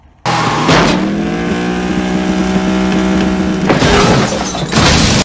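A car speeding along a dirt road, its engine roaring loud and close with a strained, sustained note, boosted by sharp whooshes at the start and end.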